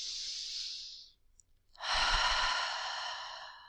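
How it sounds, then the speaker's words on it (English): A deep breath drawn in, then a long, open-mouthed exhale that comes out as an audible, breathy sigh, close and clear in a quiet room during a grounding yoga practice. "Take a deep inhalation. Open your mouth and exhale it out."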